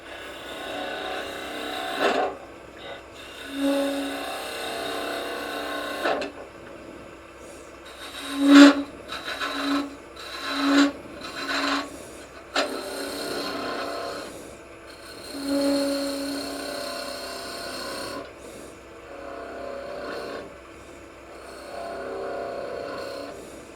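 A green wood goblet, turned from a branch, spins on a wood lathe as the tool peels off shavings, giving a steady close scraping rasp that surges into louder bursts and then eases back, with no talking.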